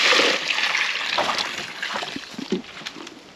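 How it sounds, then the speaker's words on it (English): Water tipped out of a garden trug pours onto garden plants in a loud rushing splash that tapers into trickles and scattered drips, close by with no voices. "The water that was in the trug, I'm just gonna tip that"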